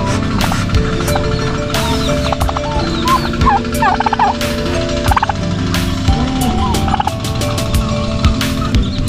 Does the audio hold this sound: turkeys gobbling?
yes